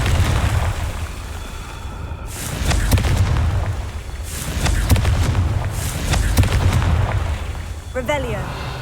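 Confringo blasting spell going off in Hogwarts Legacy, repeated heavy booms and crackling bursts swelling over a rumbling game backdrop, followed by a brief tonal chime near the end.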